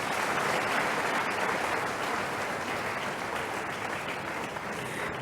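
An audience at a fortieth-anniversary event for a university's Faculty of Renewable Natural Resources gives its dean a round of applause, a dense and steady wash of clapping that holds at full strength throughout.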